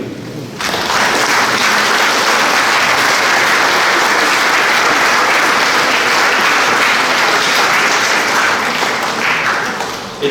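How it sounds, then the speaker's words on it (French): A church congregation applauds the organist during a solemn feast-day mass in Bastia, a dense, sustained wash of many hands clapping that starts abruptly and holds loud and steady for about ten seconds. "Nous pouvons même l'applaudir."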